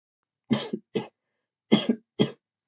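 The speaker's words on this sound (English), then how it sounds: "Do I leave the cough in or take it out?" Two short bursts of coughing, each a quick double cough, separated by a brief pause in an otherwise quiet room.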